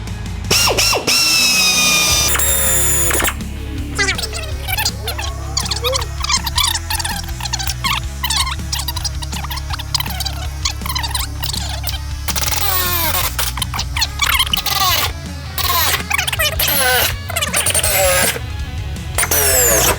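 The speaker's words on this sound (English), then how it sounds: "Step drill. Get one of these bad boys." A power drill with a step drill bit whines and buzzes loudly in bursts, its pitch shifting as the bit cuts through metal on a Toyota Hilux N70 for a snorkel fitting, with brief pauses between runs.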